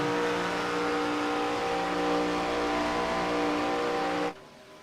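ARCA stock race car at Daytona, heard from an onboard nose camera: a loud, sustained engine roar at steady high revs with wind rush, cutting off abruptly near the end.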